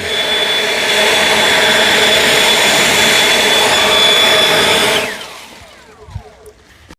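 An EGO Power+ LB7650 cordless leaf blower roars steadily on turbo boost with a loud, even whine, then cuts off and spins down around five seconds, leaving faint handling noises.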